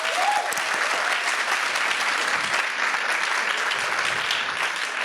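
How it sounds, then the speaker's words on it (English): Lively audience applause for a student team at a presentation, dense, continuous clapping in a room with a brief whistle-like tone at the start. "CAT students, give them a big clap."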